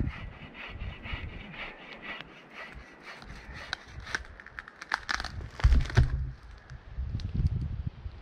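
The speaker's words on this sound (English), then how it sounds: "Got my Boreal 21 folding saw here by Agawa Canyon." A Boreal 21 folding saw cuts standing dead wood in rhythmic rasping back-and-forth strokes, close by and moderately loud, picking up speed and weight toward the end.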